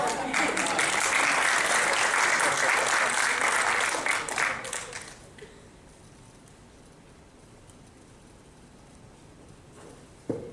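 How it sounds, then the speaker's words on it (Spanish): Audience at a Puerto Rico event applauding, dense clapping for about five seconds that then cuts off, leaving quiet room tone with faint background noise. "Ahora sí, un aplauso."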